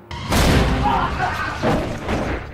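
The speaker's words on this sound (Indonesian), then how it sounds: "Mendengar suara tembakan, Nick segera menutup telepon dan berjalan de" A single loud gunshot bursts out, its boom rolling and echoing for a couple of seconds before fading.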